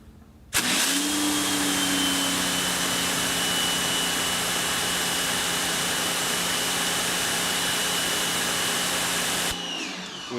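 A Greenworks 2000 PSI electric pressure washer starts abruptly and sprays through a 40-degree nozzle, a loud steady motor hum and hissing water roar holding unbroken for about nine seconds before cutting off.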